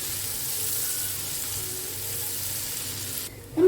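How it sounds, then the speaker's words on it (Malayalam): Finely chopped garlic fries in hot oil, giving a steady, close, even sizzle that runs unbroken until a sudden clatter near the end. "വെളുത്തുള്ളിനെ നമുക്കൊന്ന് നന്നായിട്ട് തന്നെ മൂപ്പിച്ചെടുക്കാം."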